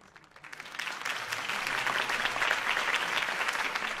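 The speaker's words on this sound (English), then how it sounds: "could have heard that applause" A crowd at a campaign speech in the Batman Telltale game breaks into applause, clapping swelling from quiet over the first second into a loud, dense, sustained ovation.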